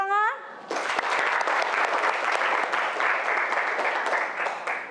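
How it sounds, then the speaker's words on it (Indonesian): A classroom of children breaks into applause on cue, steady dense clapping sustained for several seconds after a brief rising sung or spoken tone at the start. "Tepuk tangan."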